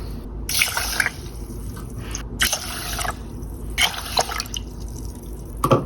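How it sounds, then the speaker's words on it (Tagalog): Water splashes and trickles into a cooking pot of rice in short, close bursts, with gurgling pours separated by brief pauses. "sasaing muna ako ng bigas. 2, 3, 4 cups of water."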